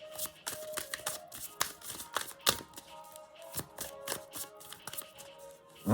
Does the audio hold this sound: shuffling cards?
yes